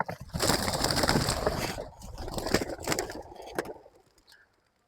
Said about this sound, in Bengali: তো আমরা আজকে এখান থেকে কবুতর গুলো রিলিজ করব।